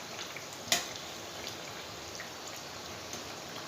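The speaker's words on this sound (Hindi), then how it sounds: "तो कचौड़ियाँ फ्राई हो रही हैं" Mung dal khasta kachoris deep-fry in oil over a low flame, giving a steady, fine bubbling crackle with one sharp pop early on, close and alone without speech.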